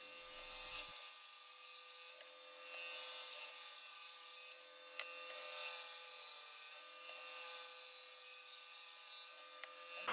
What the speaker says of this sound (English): cleaned up these contours with the bandsaw before I sanded them